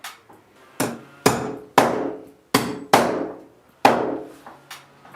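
Sharp hammer blows drive spiked metal nail stops into wood one after another at an uneven pace, loud and close, with short pauses between strikes.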